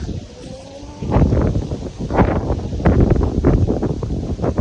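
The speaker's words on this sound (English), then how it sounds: "If y'all can hear the wind going through the mic, I can hear the wind going to my ears." Gusty outdoor wind buffets the microphone in an overgrown area, giving a low rumbling roar that swells sharply after the first second and keeps surging unevenly.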